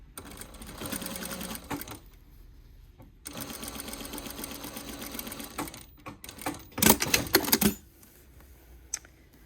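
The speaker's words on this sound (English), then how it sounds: "it's like you're sewing a straight line, but you're going over that point" A sewing machine stitches a straight seam in several rapid, rattling bursts of a few seconds each, separated by brief quiet pauses, heard up close and alone.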